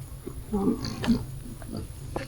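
A group of weaned pigs in a fenced farm pen grunt and oink in short, close bursts, several overlapping low snorts over about two seconds.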